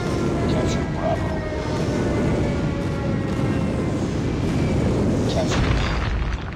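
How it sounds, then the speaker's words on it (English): An airstrike aircraft roars overhead in a Call of Duty Mobile match: a loud, sustained rushing boom that holds steady for several seconds, with faint tonal whines rising and fading. "Friendly airstrike incoming."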